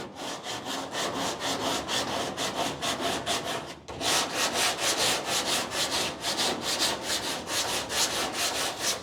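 Rhythmic back-and-forth strokes of a sanding block on body filler on a car trunk lid, loud and close, with a brief pause partway through before the steady scraping resumes.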